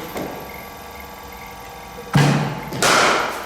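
Cricket bat striking a ball during net practice on cover and straight drives: two sharp, loud impacts close by, the second followed by a brief ringing tail, over a faint steady background.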